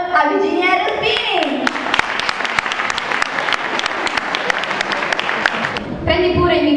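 An audience claps loudly for a singer at an Italian song event, a dense sustained round of applause with voices audible at the start and end.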